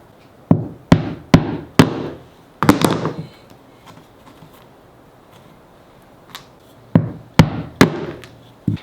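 Sharp, loud chopping strikes split small pieces of wood along the grain, in a quick series of hits, a pause with faint handling, then another run of blows.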